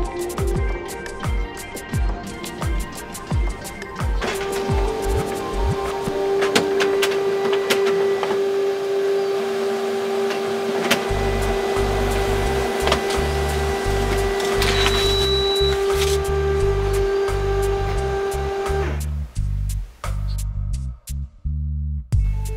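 A Canon laser printer runs a page through with a steady mechanical whir and tone, scattered clicks and rattles, then a rhythm of low thumps near the end, all close and alone with no talk.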